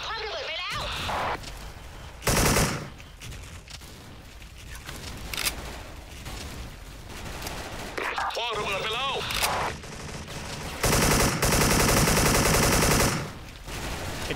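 AK74 gunfire in the game Special Force comes in loud bursts of automatic fire, a few short rattles and two longer sustained volleys, separated by quieter stretches where a voice talks.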